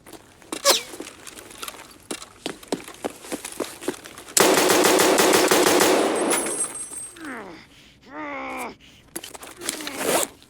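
Video game gunfire is close and loud, with scattered single shots leading into a long continuous automatic burst, followed by whooshing, sweeping effects near the end.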